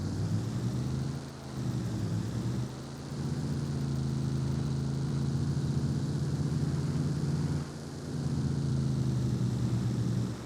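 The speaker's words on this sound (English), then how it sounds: "This truck is actually pretty loud." A truck engine in the farming game Farming Simulator 22 drones loudly and steadily at close range, with a slight dip in the rumble partway through and no talking.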